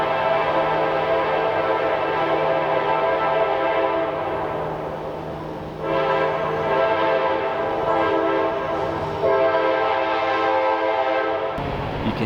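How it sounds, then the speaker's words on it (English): A train rumbles steadily past at close range with a loud continuous horn blaring, the sound dropping briefly then cutting off abruptly at the end. "Train's here."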